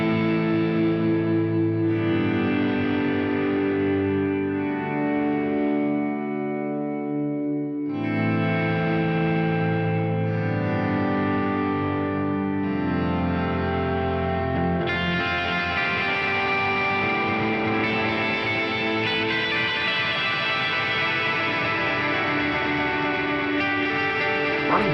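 Shoegaze guitar played through a Fractal unit, with delay and a music hall reverb pushed past half mix, rings out as a dense, washed-out wall of sustained chords that keeps shifting and swelling for the whole stretch.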